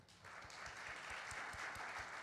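Congregation clapping in a church during a Sunday worship service, a steady dense applause of many hands sustained throughout, with faint low thumps beneath.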